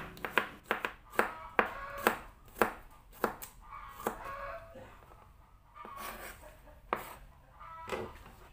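Garlic cloves are thinly sliced with a knife on a board, a quick run of crisp, close cuts followed by a few slower strokes, with chickens faintly clucking in the background.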